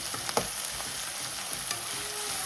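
Maggi masala frying in a pan as it is stirred, a steady close sizzle broken by scraping strokes of a spatula, with no talking.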